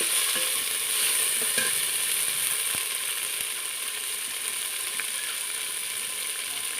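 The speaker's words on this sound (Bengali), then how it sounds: "উচ্ছেটা এখন ভেজে নেব" Sliced bitter gourd fries in oil, giving a steady, fairly loud hiss of sizzling with occasional faint clicks and scrapes from stirring, close by and without speech.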